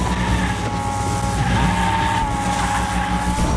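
A toy-style race car in Hot Wheels Unleashed drifts through a corner, its tires squealing in a sustained, loud whine over the steady roar of the engine.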